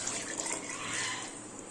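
Water poured from a cup over 4.5 cups of basmati rice in a pot for a home-style chicken biryani, a steady close-up splashing stream that runs continuously, with no talk over it.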